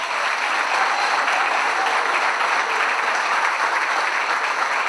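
A congress audience gives loud, steady applause to a provincial deputy and teacher: a dense, even wash of many hands clapping close by, holding at one level from start to finish.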